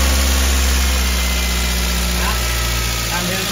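A Toyota Avanza engine with a suspected ignition leak and a strange knocking noise runs at a steady, close idle with a constant low hum for a few seconds.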